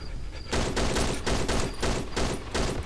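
Rapid volleys of gunfire in the horror game Cry of Fear, loud repeated bursts after a brief quiet start, with a roughly regular rhythm of about six shots and no talk.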